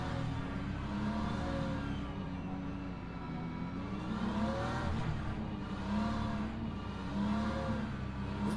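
BMW race cars rolling around a formation lap in the Le Mans Ultimate racing game at Bahrain, engines humming and rising and falling in pitch as they rev, a steady moderate-level drone with no talk.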